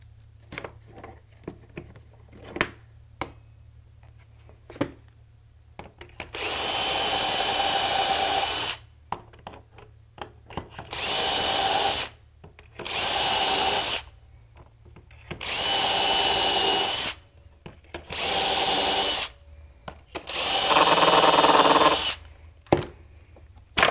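A power drill bores a series of shelf pin holes in a wood wall cabinet case, in about six loud bursts of whirring, each lasting one to two seconds, separated by quiet pauses with faint clicks.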